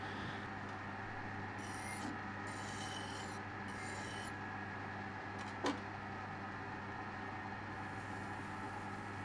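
A lathe-turned metal part for a fly cutter is worked by hand with a file, giving faint intermittent rasping strokes over a low machine-shop hum, with one brief sharp click midway.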